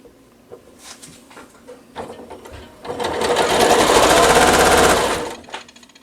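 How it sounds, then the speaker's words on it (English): A sewing machine stitches quilt block pieces together for a nine patch star block, running in one steady, loud, rapid burst of about two seconds, with quieter handling sounds before and after. "Take my first 2 pieces and get those sewn together"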